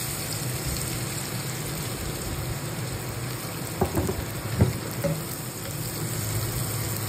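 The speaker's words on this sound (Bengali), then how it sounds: "এই তেলে আমি পেঁয়াজ দিয়ে দিব।" Chopped onions fry in hot oil in a pan, a steady, moderate sizzle with a couple of brief stirring clatters near the middle. No speech.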